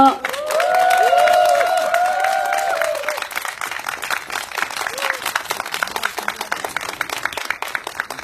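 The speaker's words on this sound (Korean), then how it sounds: "그러면 우리 큰 박수로 김진양 교수님 모시고 강연을 들어보도록 하겠습니다." A large Korean audience at a candlelight gathering in Seongju bursts into big, sustained applause welcoming a visiting professor, clapping dense and loud, with a few tonal whistles or cheers in the first seconds before the clapping thins toward the end.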